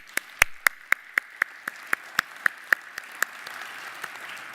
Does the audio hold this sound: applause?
yes